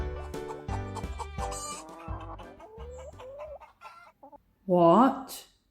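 A hen lets out a short, loud burst of clucking near the end, following a stretch of bright tonal music with a steady beat.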